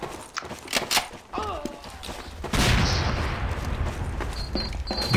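Gunfire in the video game Rush Team: several sharp shots early on, then a loud, sustained burst of firing that continues to the end, with game noise and voices in the background.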